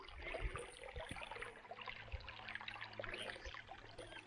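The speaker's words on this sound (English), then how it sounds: "Love that trickle water sounds." Trickling water outdoors on a rainy walk past big boulders, a faint, continuous babble and dribble of small flows with scattered drips, quiet and steady throughout.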